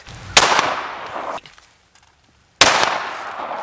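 Two loud, sharp gunshots fired into a paint jug outdoors, spaced a couple of seconds apart, each a crisp bang with a short decaying echo and near silence between them.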